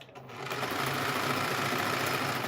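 Home sewing machine stitching quilt pieces for a scrappy bungalow quilt block, running in a steady, fast, continuous whir with a rapid needle rhythm, close and alone.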